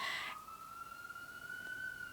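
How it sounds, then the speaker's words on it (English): A faint siren wails in the distance as a single steady, high tone that drifts slowly upward and holds on, low in the background after a brief burst of noise at the start, with no talking over it. "you hear those ambulances in the background?"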